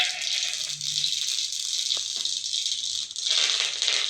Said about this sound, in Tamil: நம்ம கடுகு போட்டு தாளிச்சிக்கலாம்.